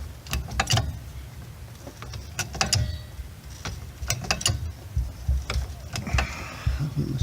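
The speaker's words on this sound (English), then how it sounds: "as the jack goes up it's naturally going to drag the machine towards it" A jack lifts a Subaru Brumby off uneven dirt with repeated mechanical ratcheting clicks and metallic clanks in short bursts, close by, over a low rumbling background.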